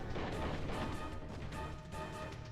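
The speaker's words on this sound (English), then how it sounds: "A cannon!" Cannon fire in a video game duel, a dense run of heavy crashing booms and thuds, loud and continuous with overlapping impacts and no clear gaps.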